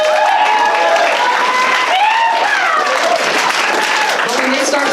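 Audience applause filling a performance venue, loud and continuous clapping mixed with crowd noise and overlapping voices and cheers throughout.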